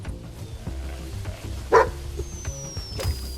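Dog barking in the video game Squirreled Away: a single short yelp-like bark stands out briefly amid low game background sounds and music, fairly close and moderately loud.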